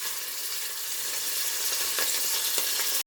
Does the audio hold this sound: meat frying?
yes